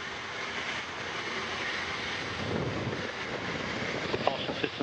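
Antares rocket engines during launch from Wallops, a distant broadband rumble and roar that stays steady and fairly faint throughout.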